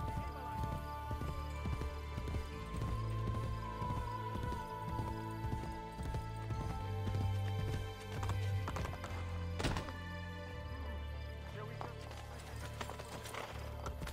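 Horse hooves clip-clopping in the game Assassin's Creed Brotherhood, a steady rhythmic trot of thudding steps with a neigh, set in game ambience and faint music, with someone talking at times.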